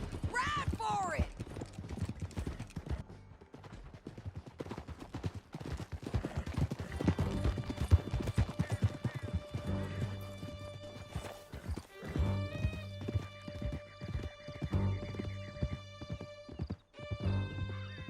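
Horses in Red Dead Redemption 2 galloping hard with rapid clip-clop hoofbeats, an early whinny and later sustained musical tones, with voices talking briefly over the action.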